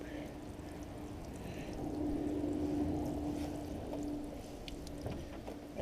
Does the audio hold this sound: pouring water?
yes